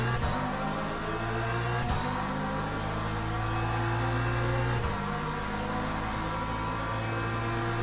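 Multi-class prototype and LMP2 race car engines in the Le Mans Ultimate sim racing game, a steady dense droning roar from a field of cars running together, loud and continuous with brief shifts in pitch.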